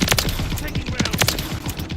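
Rapid automatic gunfire in the Call of Duty video game rattles in quick, dense bursts, close and loud, with a voice talking faintly underneath.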